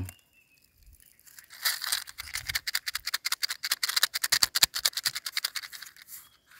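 Dry seed pods of a pink shower tree, left after a forest fire, knocked together in a quick run of sharp, hollow woody clacks and rattles, close and fairly loud, with no talk.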